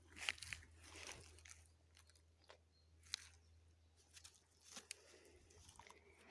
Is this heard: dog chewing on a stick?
yes